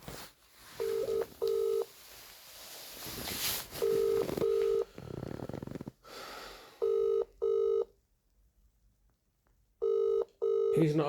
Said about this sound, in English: Ringing up Graeme Kenna.